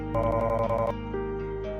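A rapid series of about nine identical high electronic blips from an Undertale-style dialogue text scroll, played at half text speed, in quick succession, followed by a softer tone and a couple of faint blips.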